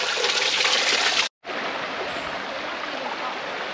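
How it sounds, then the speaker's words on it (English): A small woodland stream at Hardcastle Crags near Hebden Bridge flows with a steady, close rushing and trickling wash, broken by one brief gap before continuing evenly. "And there's lots of these little streams"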